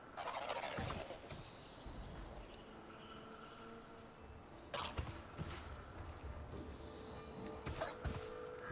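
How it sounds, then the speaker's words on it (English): A turkey-like creature in the video game Horizon Forbidden West gobbles in a few short bursts over a low game ambience, fairly faint and spread across several seconds. "It's a stupid turkey again."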